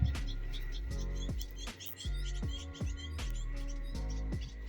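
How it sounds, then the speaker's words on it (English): Birds chirp in an urban garden in Nairobi, Kenya, with quick repeated tweets and calls in bursts over a steady low background hum, fairly near and clear. "Listen to that sound of birds."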